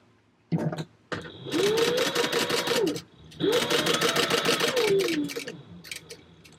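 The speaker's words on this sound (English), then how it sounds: "And then we're going to top stitch and stop right where these lines are" Sewing machine top stitching a bucket bag, two sustained runs of fast humming stitches that ramp up and slow down, each lasting about one and a half seconds, close, with a few clicks between.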